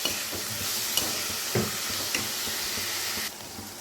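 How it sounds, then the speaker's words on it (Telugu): Onion pieces seasoned with salt and turmeric fry in a pan with a steady close sizzle, interrupted by a few scraping stirs of a spatula; the sizzle drops slightly near the end, and no one talks. "ఇలా ఉల్లిపాయ ముక్కలు అన్నీ వేపేసుకుందాం."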